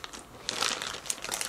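Plastic packaging of a Happy Meal Licca-chan doll toy crinkles and crumples continuously as it is handled and opened, close and steady with sharper crackles throughout.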